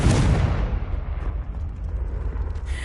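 Confringo fire-blast spell from the Hogwarts Legacy video game, a single loud explosive burst at the start that rumbles and crackles away over the next couple of seconds.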